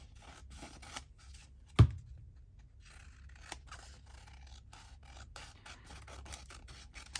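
Scissors snip around the outside of a paper piece for a handmade journal, a series of small close crisp cuts with one sharper louder snip early on, quiet and alone, no speech.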